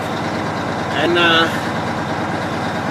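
A Mack truck idles steadily while building up air pressure, its low engine rumble continuous throughout, with a brief louder hiss-like swell near the middle and someone talking over it.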